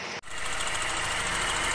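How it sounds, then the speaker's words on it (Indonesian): A used Chevrolet Aveo engine idles roughly with a steady, close mechanical drone and faint knocking. It follows a brief cut near the start and continues alone with no talk. "kalau lama-lama dibiarin olinya nggak naik ke atas, suaranya jadi kasar begini"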